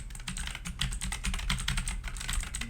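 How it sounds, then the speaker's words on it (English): Typing on a computer keyboard on a desk, recorded through a Samson G-Track Pro microphone, fast continuous key clicks close by with a hollow desk resonance underneath. "let's do a little keyboard stuff over here."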